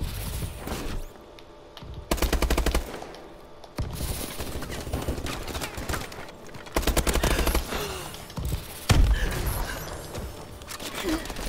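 Shotgun blasts in the first-person shooter Call of Duty: Advanced Warfare, a few loud booming shots spaced several seconds apart over constant game noise and mechanical clatter.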